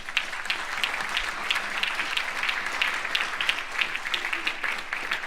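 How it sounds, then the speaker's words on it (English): Audience applause during a break in a Republican primary candidates' forum, a steady patter of many hands clapping at moderate volume with no talk over it. "Now we can applaud, do a temporary applaud here."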